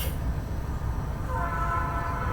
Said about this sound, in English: there's a train, choo-choo